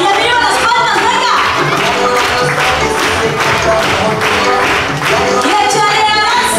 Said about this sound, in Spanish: faltan las palmas más fuertes, todas juntas. Ahí arriba las palmas, venga.